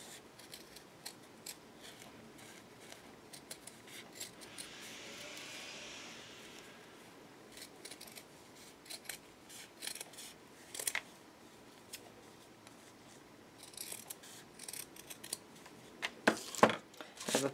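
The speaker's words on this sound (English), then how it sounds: "so I'm going to go ahead and just cut out the whole thing like this." Scissors snip through fabric while cutting out pieces for a homemade rice bag, a series of soft, scattered cuts that grow sharper and more frequent toward the end, close by with no talking.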